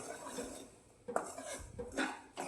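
Semolina roasting dry in a pan, stirred with a utensil that scrapes and knocks against the metal in a few irregular, fairly quiet strokes.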